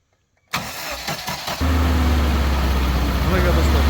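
A GAZelle van with a 406 engine cranks briefly after a moment of silence, then catches and settles into a steady, close, rumbling idle.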